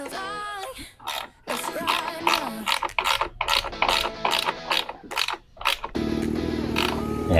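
Plastic headlight adjuster on an NXT Porto V2 being tightened, producing a rapid run of close ratcheting clicks and creaky ticks, with a brief voice at the start and a louder mechanical whir near the end.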